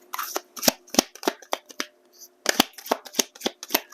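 Tarot cards being shuffled and drawn, sharp close-up bursts of riffling clicks and flicks in quick clusters with a short gap midway, crisp and fairly loud with no talking.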